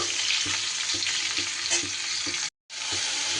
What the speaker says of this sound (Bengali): ঝিঙেগুলো দিয়ে আমি ভালো করে ঘিয়ের মধ্যে একটু নাড়াচাড়া করে নেব।